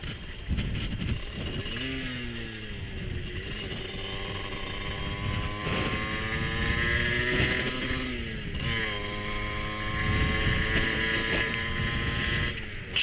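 A Gilera SMT 50 moped engine runs continuously while riding, its pitch sweeping up and down through gear changes, loud and close throughout with no talking.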